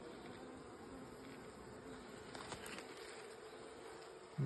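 Honey bees in an open hive hum in a faint, continuous drone, their buzzing rising slightly midway before a soft knock at the end.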